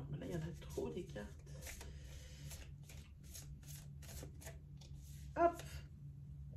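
Playing cards shuffled in a series of quick riffling bursts, close and moderately loud, with a sharper snap near the end and a voice speaking intermittently.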